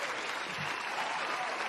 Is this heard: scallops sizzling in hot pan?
no